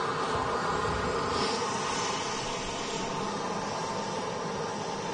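A TUI Boeing 787 Dreamliner at Manchester Airport produces a steady broadband jet roar with a faint rising whine, heard from a distance as a constant wash of engine noise with no voices.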